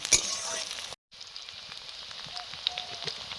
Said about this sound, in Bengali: তার জন্য আগে তেলে দিয়ে দিলাম আলু আর কুঁদরি